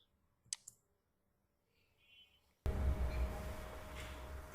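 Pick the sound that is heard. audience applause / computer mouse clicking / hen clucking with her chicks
computer mouse clicking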